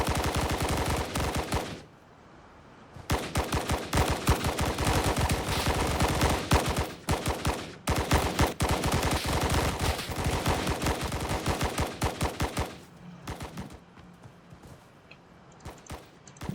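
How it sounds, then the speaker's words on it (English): Rapid bursts of automatic gunfire crackle during shooting practice in the Roblox military game BRM5. The loud rattling volleys are broken by short pauses and end in a quieter stretch with a few scattered shots. "Stop shooting."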